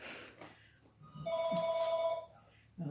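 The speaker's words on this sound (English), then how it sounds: "Uh-oh, there goes our phone." A household telephone rings indoors in a steady electronic tone lasting over a second, with a short second ring starting at the end and faint background sounds around it.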